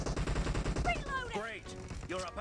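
Rapid bursts of in-game rifle fire, including an AKM, crackle in PUBG Mobile during a squad fight in Pochinki, with dense repeated shots up front and a voice talking over the later part.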